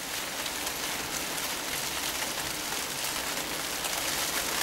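Torrential rain pounds hard and continuously on the roof of a parked van in British weather, a dense, even hiss with no letup and no voices.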